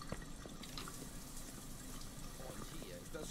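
A bathroom tap runs in the Mafia 2 video game, a soft steady trickle of water that stays faint and low under someone speaking German.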